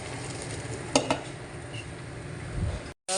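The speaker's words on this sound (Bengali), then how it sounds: "ফ্রাই করে নিচ্ছি" Goat meat for biryani fries in a pan with a steady soft sizzle, broken by two quick clinks of a utensil against the pan and a brief stirring scrape before the sound cuts off.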